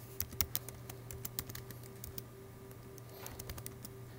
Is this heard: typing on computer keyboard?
yes